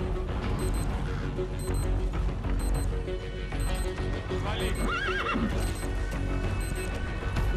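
A horse whinnies loudly amid rhythmic clip-clopping hooves, with Metal Gear Solid 5 video game ticking sounds and a person talking over it in German.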